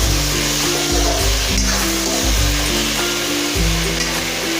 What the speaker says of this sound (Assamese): এয়া আলু আৰু চটপটিখিনি দিয়াৰ পিছত মই খুব ধুনীয়াকৈ ভাজি ল'লোঁ।